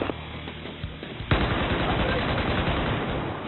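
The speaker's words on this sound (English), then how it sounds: "I'm getting shot at!" Battlefield 4 gunfire: scattered shots at first, then a sustained loud burst of rapid automatic fire that fills the rest of the clip.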